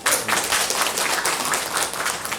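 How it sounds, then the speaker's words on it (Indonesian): Audience applause at a village meeting in Desa Jayanti, a brief burst of dense clapping from a gathered crowd, steady throughout. "tepuk tangan Pak"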